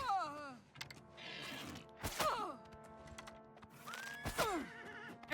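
A horse in the video game Oblivion Remastered whinnies several times in shrill, descending bursts, with soft hoof clip-clops and faint clicks between them.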